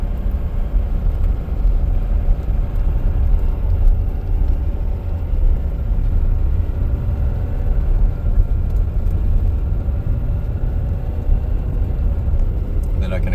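A 2021 Ford F450 diesel truck pulls away from a dead stop and accelerates steadily on an empty road, with a constant loud engine rumble and whir heard from inside the cab.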